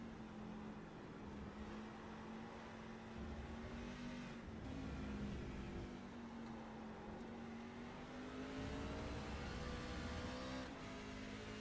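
Race cars in a Chrysler, Dodge, Jeep, Ram series at the Red Bull Ring accelerate out of the final corners, several engines overlapping and climbing in pitch. The sound is faint and distant, without talk.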